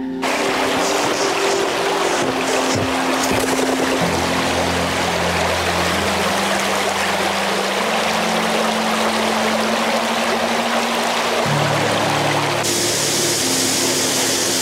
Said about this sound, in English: This is Two's Falls. I believe it is actually the tallest of the waterfalls in Hamilton.